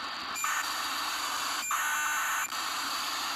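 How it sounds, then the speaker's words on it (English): ACARS aircraft data transmissions arrive as AM radio through an SDR receiver with an RTL2832 dongle: a constant loud static hiss broken by a few short, harsh buzzing bursts. "that beep, buzzing sound, that is Acars messages being transmitted"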